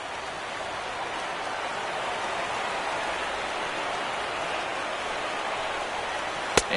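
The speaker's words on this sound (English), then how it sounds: "when it's raining, the approach at the plate has to change a little bit" Rain falling in an MLB baseball video game, a steady, even hiss of rainfall that fills the whole stretch at moderate loudness, with a single sharp tick near the end.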